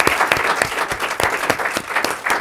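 A studio audience at a debate show breaks into lively applause, dense, bright clapping with rhythmic peaks and no voices on top.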